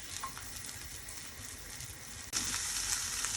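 Mushrooms frying in oil in a pan give a steady close sizzle that jumps louder partway through, with no talk.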